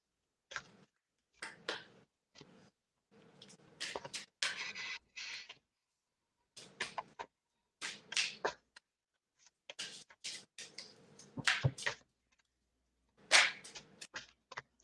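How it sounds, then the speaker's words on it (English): A deck of cards is shuffled in repeated bursts, sharp riffling flutters and snaps separated by short silent pauses, close and fairly quiet. "It's just a shuffling fest."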